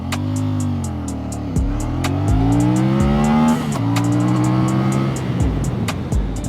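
A CFMoto CLC 450 cruiser motorcycle accelerates hard through several gears, its engine note climbing and dropping at each shift over about six seconds, loud and close, with wind noise and no speech.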